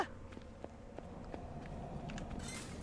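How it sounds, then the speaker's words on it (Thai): Footsteps in the horror survival game Home Sweet Home: Survive, a steady run of soft, evenly spaced thuds at moderate loudness over a low ambient rumble. "เสียงเท้ามันดังอ่ะ"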